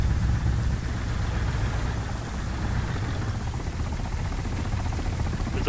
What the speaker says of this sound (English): There's a helicopter landing over on the other side of the map.